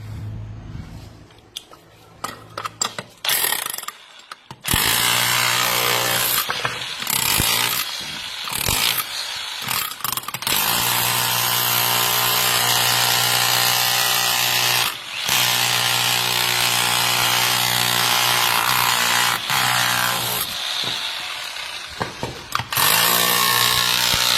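A heavy rotary hammer drill for concrete roaring loudly up close, starting and stopping in short bursts at first, then running long sustained stretches.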